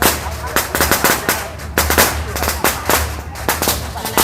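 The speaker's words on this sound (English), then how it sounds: "You can out hear the firecrackers cracking really loud." Firecrackers crackle loudly at a Chinese Spring Festival parade of the gods, with rapid, irregular sharp bangs in dense bursts over a low crowd rumble.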